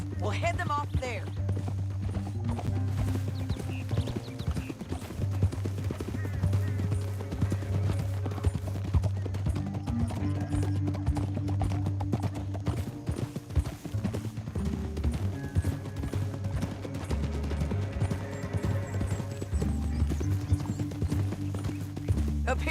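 Horse hooves clip-clop steadily in Red Dead Redemption 2 while a ride carries on, the rhythmic footfalls sitting under a constant bed of game music and effects, with voices talking over them.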